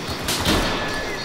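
Gunfire in the video game Battlefield 4 crackles in a brief burst of a couple of sharp shots, heard over the game's background noise.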